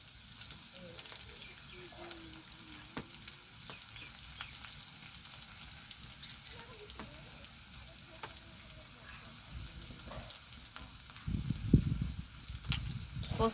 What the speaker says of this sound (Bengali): পোস্তটা ভালো করে তেলের সাথে কষিয়ে নেব।